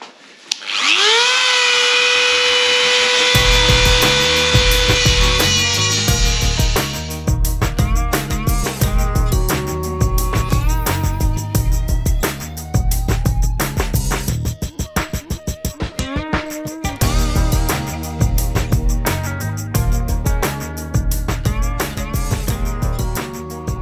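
A power tool cuts through steel for a beach buggy chassis in a workshop, starting with a high whine and then grinding loud and close in long bursts with brief pauses.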